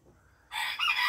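An Araucana chicken's loud, short crowing call starts abruptly after a quiet moment, close and clear, inside a coop.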